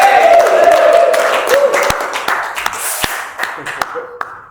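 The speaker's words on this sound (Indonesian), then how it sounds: "Tepuk tangan dong." Scattered claps from a small audience at a theatre news show, sharp and uneven, ringing out briefly under continuous talking.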